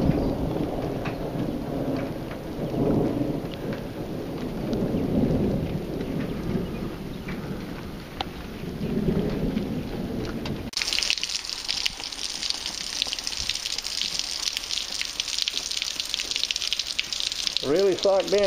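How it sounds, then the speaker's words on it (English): A thunderstorm with steady rain and rolling thunder, someone talking over the downpour at first before the rain grows into a brighter, hissing roar with distant rumbles. "Thunder and lightning."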